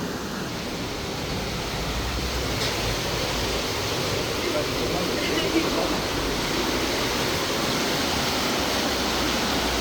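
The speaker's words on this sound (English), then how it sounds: "the water really is flowing from out under the mill" Fast water gushes out from under a city mill in Winchester, a loud, constant rushing roar that stays steady throughout, close by and without any voices.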